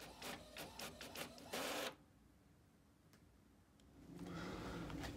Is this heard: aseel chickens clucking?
no